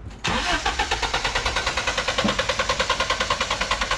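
A BMW 318 IS engine cranks and catches, then runs with a fast, even pulsing chug throughout, loud and close with no talk over it.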